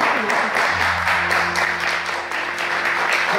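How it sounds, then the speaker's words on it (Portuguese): Church congregation applauding during an evening Portuguese-language service in Birmingham, steady crowd clapping filling the room at moderate loudness without a break, with a faint low hum underneath. "Você pode aplaudir o Senhor?"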